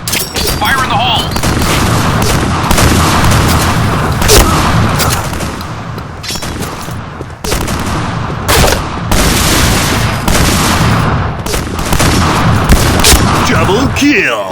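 Loud, dense shotgun fire in the shooter video game Point Blank, with repeated heavy blasts and booms packed close together through the whole stretch, mixed with game effects.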